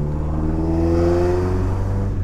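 A Mk1 Fox with a 2.0 16V engine on individual throttle bodies revs up close and loud, a deep throaty rise that holds and then eases off.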